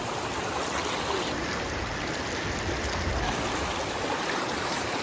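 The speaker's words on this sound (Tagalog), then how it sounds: "Malaki po ang ilog na ito mga kababayan." A large river rushes steadily nearby, a constant full-bodied watery roar with no voices.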